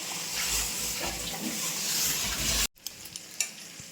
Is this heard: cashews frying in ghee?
yes